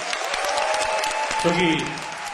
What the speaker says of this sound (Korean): 한번 큰 박수 부탁드리겠습니다